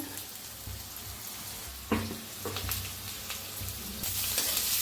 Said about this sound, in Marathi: हिरवी मिरची लसूण कुटल्याला शेंगदाणे ते बी असं भाजून घेऊया छान असं